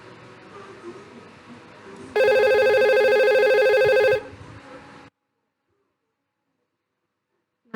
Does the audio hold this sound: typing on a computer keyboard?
no